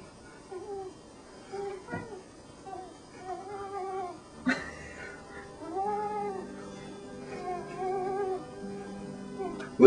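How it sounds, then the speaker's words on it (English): A cat stuck in a tree yowls in drawn-out, wavering caterwauls, several long cries close by, with a person talking softly between them. "Little bit of cat yodeling."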